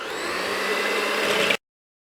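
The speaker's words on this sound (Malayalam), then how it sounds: "ഇനി ഞാനിവിടെ ഇതേപോലത്തെ ഒരു ഇലക്ട്രിക് ബീറ്റർ വെച്ചിട്ട് ഇത് ബീറ്റ് ചെയ്യാൻ വേണ്ടിയിട്ട് പോവാണ്" Electric hand beater whipping heavy cream for a chocolate Swiss roll, a steady close motor whir with a high buzzing tone that runs evenly for about a second and a half before cutting off.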